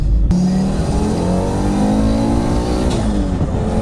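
A fully forged Audi RS2 with nitrous holds a loud, steady high-rpm rev throughout, its engine note climbing gradually before a brief dip and pickup near the end, with no talking.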